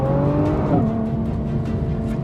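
Nissan GT-R R35 revving, then a short exhaust bark as the pitch drops on the upshift before the note climbs again, loud and close with no talk.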